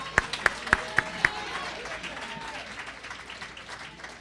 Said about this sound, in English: let's give all 3 of these candidates a round of applause